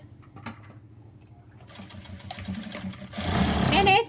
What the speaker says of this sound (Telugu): ఇచ్చిన మార్క్ మీద కుట్టు అనేది వేసుకుంటూ వచ్చేద్దాం